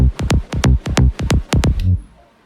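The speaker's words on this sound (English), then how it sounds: "Which is just a high pitched bass which you gave me" A high-pitched psytrance bass pulses in a fast, rhythmic run of about eleven sharp, loud hits that each drop in pitch, stopping abruptly into near silence.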